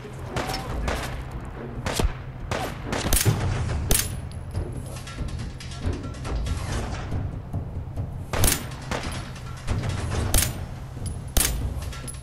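Pistol fire, a Glock P80, in the TROCK'S ModBox video game: a dozen or so sharp, loud cracks come at irregular intervals, some in quick pairs, over a steady low rumble.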